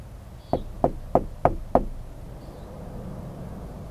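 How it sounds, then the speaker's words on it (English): Five evenly spaced, sharp knocks ring out inside a building, a slow steady series of solid raps followed by quiet room tone. "Can he knock back to me?"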